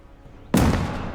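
A single sharp grenade explosion in the World War II shooter Gates of Hell: Ostfront bursts suddenly out of quiet battlefield ambience and then trails off in a loud rumbling decay.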